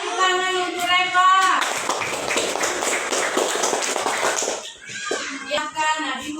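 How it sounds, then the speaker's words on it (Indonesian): A classroom of children claps together for a student for several seconds. A voice is heard before the clapping and more voices come after it. "Tepuk tangan untuk Reva"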